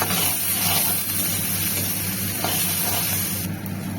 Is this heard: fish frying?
yes